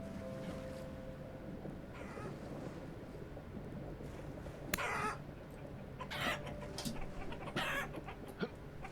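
Chicken clucks in the survival game Vintage Story, a few short bursts rising over a steady low ambient game hum, fairly close and moderately loud.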